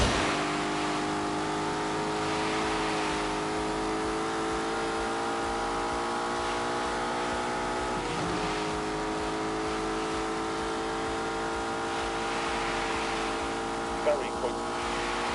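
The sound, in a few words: turbocharged Lamborghini engine revving, from The Grand Tour Game video game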